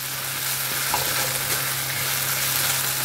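Onions frying in a pan with ginger garlic paste give a loud, steady sizzle with faint stirring scrapes, close and continuous throughout.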